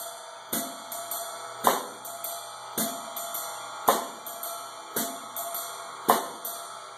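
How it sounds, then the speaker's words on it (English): Jazz swing groove on a drum set with a cross-stick block on the snare, the stick turned around to strike with its butt end: sharp woody clicks land at a steady pace over a faint ride pattern, played alone without talk. "you add a block, cross stick, or I call it block, on the snare, where you turn the stick around, use the butt end of the stick,"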